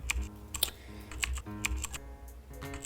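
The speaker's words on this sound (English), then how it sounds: "And this is typing extremely slowly." Slow typing on a computer keyboard, close by, with single key clicks and short bursts of keystrokes in an uneven rhythm, over a low steady hum and with no speech.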